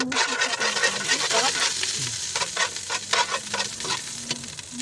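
Garlic sautéing in cooking oil for an octopus dish, a steady close sizzle with repeated scraping stirs of a utensil across the pan throughout.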